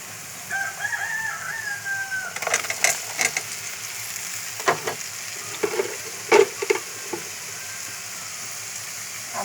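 Pointed gourd (potol) fries in a pan with a soft steady sizzle and scattered louder clatters of stirring, while a rooster crows faintly in the background.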